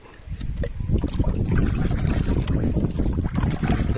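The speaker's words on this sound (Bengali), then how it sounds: "জলগুলো ভালোভাবে নাড়িয়ে নেবো।" Water is stirred by hand in a container for mixing plant feed, giving close, continuous sloshing and swirling splashes that run the whole time without talk.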